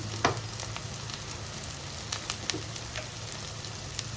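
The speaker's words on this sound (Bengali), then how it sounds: "মশলাটা ভালো করে কষতে হবে যাতে কাঁচা মশলার গন্ধ যেন না থাকে" Spice paste sweetened with sugar sizzles and fries steadily in a pan while a Bengali dish of pointed gourd and prawns is cooked, with a constant close crackle and a few sharper pops.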